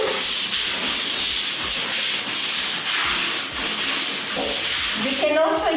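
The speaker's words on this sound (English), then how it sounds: "So we're just scrubbing and scrubbing and scrubbing." A tile floor is scrubbed by hand, producing a loud, continuous rough rubbing with a steady back-and-forth rhythm, close to the microphone and with no talking.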